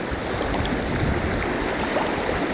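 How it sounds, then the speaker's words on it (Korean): A rocky stream in a countryside creek flows continuously, a dense close rushing and gurgling of water with no voices. "물소리 끝내줍니다"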